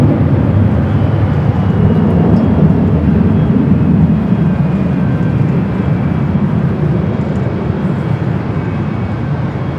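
Near LAX runway 24 right, an Air China jet lands with a steady, loud, broadband jet engine roar that holds almost unchanged and sits low and full throughout.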